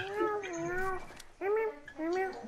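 Three drawn-out, wavering cat meows from a Fortnite game, close and fairly clear, with brief gaps between them.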